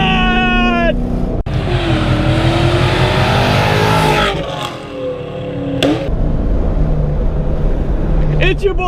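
A 400 hp naturally aspirated two-valve Mustang GT makes a second-gear pull from inside the car. The engine roars and climbs steadily in pitch, then dips briefly and builds again, loud and close, with excited voices over it.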